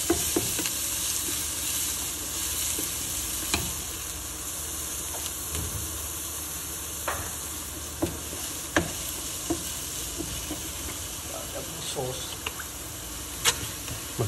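Corn and black olives stir-fry in a hot street-food pan for pasta, making a steady loud sizzle with periodic sharp scrapes and clanks of the spatula, and a voice talks over it.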